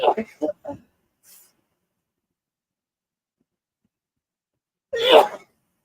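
A single sharp sneeze bursts out after a few brief vocal sounds and a stretch of silence.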